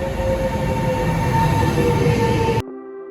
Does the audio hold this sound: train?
yes